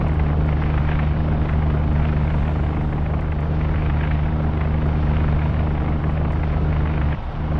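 An aircraft droning overhead during an attack on a submarine in the World War 2 game UBOAT, a loud continuous engine roar holding steady throughout without speech.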